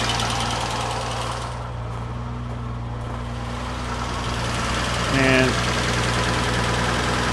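A carbureted Jaguar XJ6 engine idles after a cold start, holding a steady, close mechanical drone with a low hum that continues unbroken throughout.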